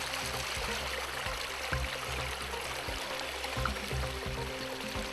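A small stream flows with a steady, close wash of water in a hot outdoor work setting. The sound stays even throughout, with a few faint low knocks underneath.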